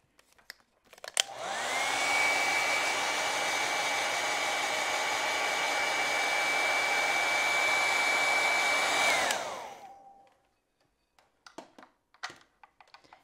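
A handheld hair dryer blows over wet acrylic paint on a painting, a loud steady whir lasting about eight seconds that ramps up and winds down, followed by a few faint taps.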